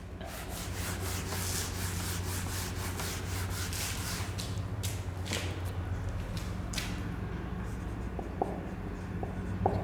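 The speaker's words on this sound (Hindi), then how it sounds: "तो इसको हम लिखते हैं" Writing on a board during a physics lesson: continuous close scratching strokes of chalk or marker in quick repeated bursts, steady and moderately loud without speech.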